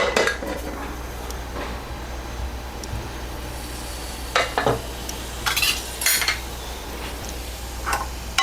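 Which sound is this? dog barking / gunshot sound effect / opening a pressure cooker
opening a pressure cooker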